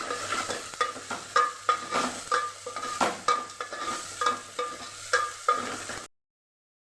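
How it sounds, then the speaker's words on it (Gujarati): A spoon scrapes and stirs rhythmically in a pan over a soft sizzle of turmeric and red chilli powder sautéing, repeated strokes roughly every half second, then stops abruptly. "આ ચમચી જેટલું લાલ મરચું પાવડર એને પણ સાતડી દઈશું"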